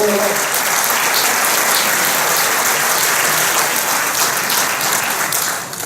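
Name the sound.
audience applauding the team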